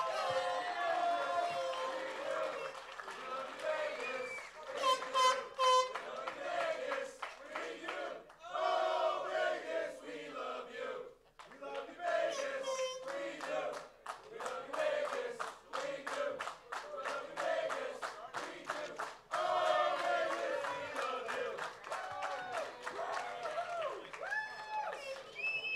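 A large crowd at a United Soccer League event chants and cheers in rhythmic bursts, with clapping, shouting and surging voices rising and falling over about half a minute.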